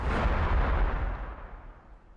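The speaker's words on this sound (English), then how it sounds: "Let's throw a stick bomb." A stick bomb goes off in a Warhammer Orks battle as a single loud, deep blast, booming at once and then rumbling away over about two seconds with nothing else heard.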